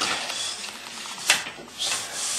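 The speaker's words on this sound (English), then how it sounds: "The brush fits snugly into the chimney pipe." A chimney brush twisted inside a woodstove chimney pipe gives a steady, close scraping rub, with a sharper scrape in the middle and another swell toward the end.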